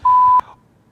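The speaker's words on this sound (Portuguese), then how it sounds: "Amaral ou Alex, que estão botando aí o bip?" A single sharp censor bleep, a pure steady tone lasting just under half a second, loud and alone before cutting off into near silence.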